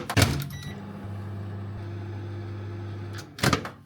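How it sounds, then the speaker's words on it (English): A microwave oven heats a buttered bagel, giving a steady low electric hum for several seconds, framed by the clunk of the door or start at the beginning and sharp clicks at the end. "We put in the microwave."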